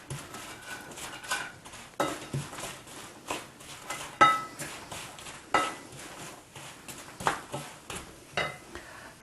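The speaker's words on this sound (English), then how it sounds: "I'm going to just stir our breadcrumbs a little bit here." A utensil stirs breadcrumbs in a fry pan, giving a run of close, quiet scraping clinks against the metal in an irregular rhythm with soft pauses between strokes.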